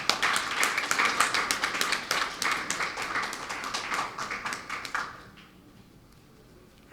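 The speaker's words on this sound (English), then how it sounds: "Let's give her a big round of applause" An audience at a programme launch in Belize claps for a speaker, a brisk round of many hands at moderate distance that fades out after about five seconds into quiet.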